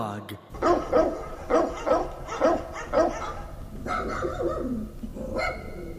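A dog barks in a run of repeated, evenly spaced barks, near and fairly loud, followed by a softer, drawn-out whining yelp.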